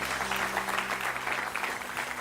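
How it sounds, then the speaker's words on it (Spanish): A church congregation applauds during an evening worship service, a steady, dense wash of clapping that fills the whole moment at moderate loudness, with a low sustained tone underneath. "vamos a darle un aplauso al Señor"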